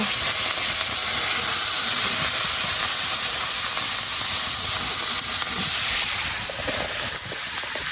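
Fish heads frying in hot oil in a home kitchen give off a steady, loud, unbroken sizzle and hiss that runs the whole stretch with no talking.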